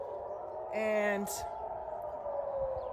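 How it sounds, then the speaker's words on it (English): Civil defense air raid siren going off during Shabbat, a steady tone drawn out across the whole stretch under a person speaking nearby, with a brief louder swell near the start. "a siren is going off right now"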